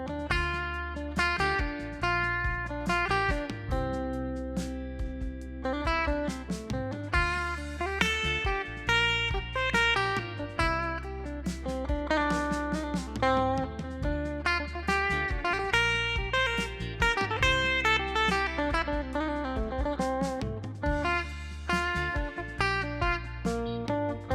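An electric guitar improvises a fast, flowing pentatonic melodic line over a sustained backing, busy and continuous throughout with no talking.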